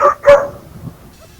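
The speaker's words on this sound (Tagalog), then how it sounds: "Kaya maingay yung aso." Two sharp dog barks in quick succession, fairly close, followed by quieter background noise.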